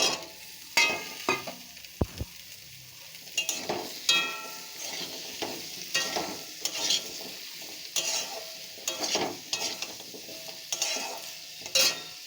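Cut pumpkin pieces fry in hot spiced oil for a Bengali crab and pumpkin chorchori, with a soft sizzle under repeated scraping and clinking stirs of a spoon against the pan, close up and rhythmic, no talking.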